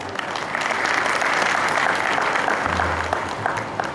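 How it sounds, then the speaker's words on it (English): An audience at the Bharatiya Vidya Mandir school annual function applauds warmly, a sustained wash of clapping from many hands that swells and then tapers slightly near the end. "So I think they all need your cheers and claps."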